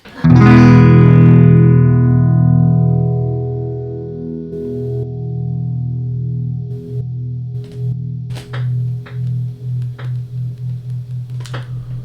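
A distorted electric guitar chord rings out through an MXR Phase 90 phaser pedal, its wobble speeding up from slow swirling to a fast, choppy pulse as the rate goes from minimum to maximum, loud and alone.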